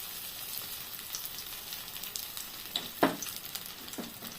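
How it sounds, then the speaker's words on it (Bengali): Batter-dipped stuffed paneer pieces frying in hot oil, a steady close sizzle with a sharper crackling burst as a piece goes in. "এই স্টাফ পনিরটা এমনি করে ব্যাটারে চুবিয়ে আমি এবার ভেজে নিচ্ছি একটা একটা করে"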